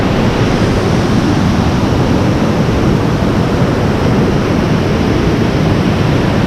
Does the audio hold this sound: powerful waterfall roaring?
yes